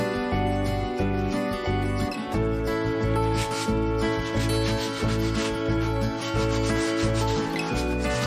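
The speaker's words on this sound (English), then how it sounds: "So I'm only distressing the wood, the painted part." Light hand sanding to distress painted wood on an antique French country sideboard, a steady continuous rubbing scrape that runs throughout, fairly close, with no talking.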